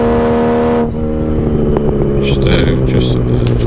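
A Triumph TR6 races toward the finish line of a sprint at Mallory Park. The engine roars loud and close, with a shift in pitch early on, and a voice speaks over the continuing drive.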